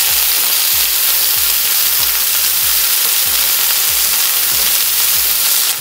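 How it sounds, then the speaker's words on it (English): Frozen green peas stirred in a hot pan for peas pulao, a loud steady sizzle and frying hiss under a regular series of about ten low scrapes and knocks from the spoon, close with no talking. "Now I'm gonna add my green peas. They're frozen. And give that a nice stir."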